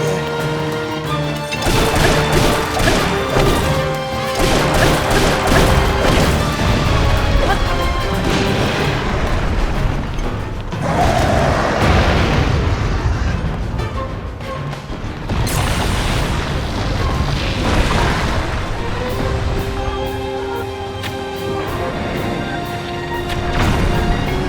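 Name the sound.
rock exploding in Zelda Tears of the Kingdom video game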